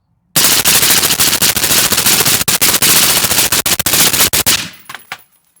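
Rapid string of rifle shots fired offhand by a pro shooter outdoors, loud sharp cracks in quick succession for several seconds, then stopping abruptly with a brief ringing tail.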